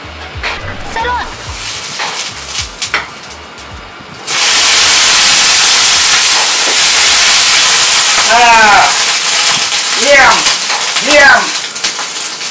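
Vegetable curry bubbles and hisses in a covered pot, a loud continuous steamy sizzle that begins abruptly partway through, with someone speaking Thai over it.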